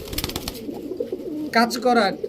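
A pigeon, a high-flyer or racer type, coos softly in a few low, throaty bursts, fairly close, with a person talking over it.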